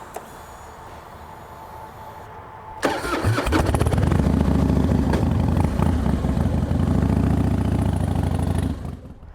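Harley-Davidson Fat Boy motorcycle: after a quiet stretch the engine cranks and fires, then settles into a loud, close, steady loping idle for several seconds before cutting off.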